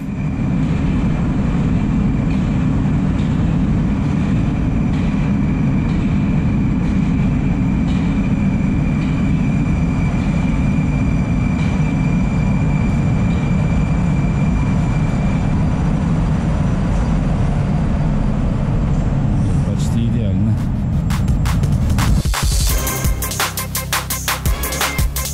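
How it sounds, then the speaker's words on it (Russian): A Moscow metro train heading toward Lefortovo arriving at a station: a loud, sustained roar of wheels and motors that builds over the platform, ending in squealing brakes and clattering metal as it stops. "А мы сейчас ждем поезд в сторону Лефортово."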